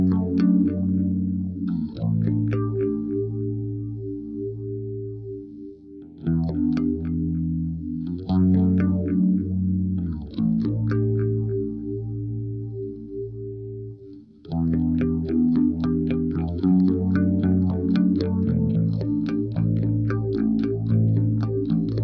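A bass guitar picked with a plectrum through a chorus effect plays repeated melodic phrases with shimmering, doubled tone and sharp attacks, steady and close with no talk.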